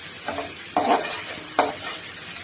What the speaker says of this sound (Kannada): 1-2 ಹಸಿಮೆಣಸಿನ್ಕಾಯಿ ಹಾಕೋಬೇಕು. ಮಿಕ್ಸ್ ಮಾಡ್ಕೋಬೇಕು.